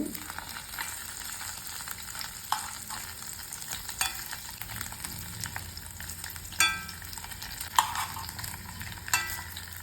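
Paneer pieces fry quietly in a pan with a low, steady sizzle, while occasional spatula scrapes and clinks mark the pieces being turned over.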